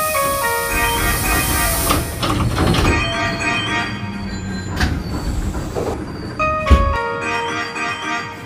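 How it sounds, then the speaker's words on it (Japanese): Train pulling into a station in the A-Train 3D railway simulation game, with a steady rumbling run, harmonic motor and brake whine and a sharp clunk near the end, all fairly loud with no talk. "ただいま3号線に電車が到着します。"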